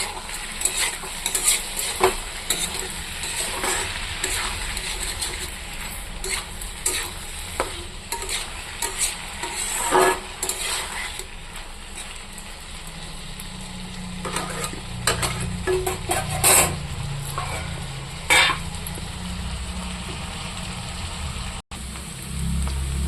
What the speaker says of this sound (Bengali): দেখুন বন্ধুরা, আমার আলু ভাজি, এটাতে আমি এখন লবণ দেবো না, লবণ দিলে ভেঙে যাবে।